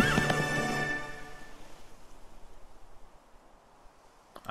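A horse whinnies in Kingdom Hearts 3: a loud, rising neigh with a clear tonal whinny in the first second and a half, then breathy snorting and a shaky tail-off. A faint click lands at the very end.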